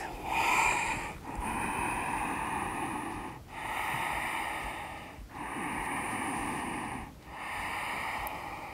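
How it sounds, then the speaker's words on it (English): Deep, audible breaths during a yoga workout, with about five long, rhythmic inhale-and-exhale cycles, each a breathy rush of air close to the microphone with brief pauses between them. "And exhale back."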